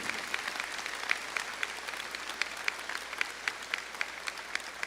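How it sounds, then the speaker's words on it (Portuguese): A church congregation claps steadily in honor of the Eucharist, a sustained patter of many hands with regular sharper accents, heard from a distance at moderate volume with no talking over it. "Aplaude a Divina Eucaristia,"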